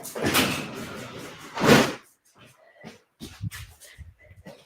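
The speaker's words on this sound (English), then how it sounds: "Stop barking." A dog barks twice, loud and close, followed by quieter knocking and shuffling sounds with faint scattered noises.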